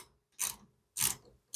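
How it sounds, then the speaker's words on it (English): Wrench tightening a bolt on a homemade planishing hammer built from scrap metal: two separate ratcheting bursts, close and fairly quiet, with short silences between. "Now I need this wrench to tighten it."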